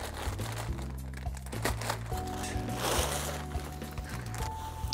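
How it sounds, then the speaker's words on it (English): A cardboard shipping box being cut open, close crinkling and rustling with a few crunchy scrapes, steady for several seconds. "nothing else in the box, which we'll just cut open"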